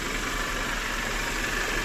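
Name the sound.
car engine idling during used car inspection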